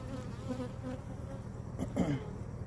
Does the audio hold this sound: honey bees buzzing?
yes